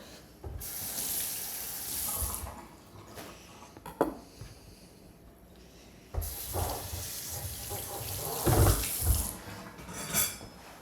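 Tap water runs into a kitchen sink in two bursts while a knife and cutting board stained with tomato juice are rinsed, with light clatter and a quieter gap between the flows.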